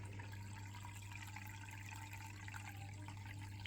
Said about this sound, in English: that's the noise of the water obviously